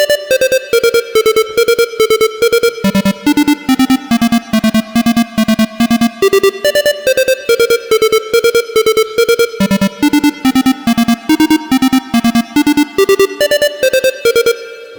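Heavily reverberant synth lead built in FL Studio, drenched in wet reverb with about a 2.5-second decay, playing a steady repeating rhythmic pattern of stabbing notes that jump between low and higher pitches, loud and continuous throughout.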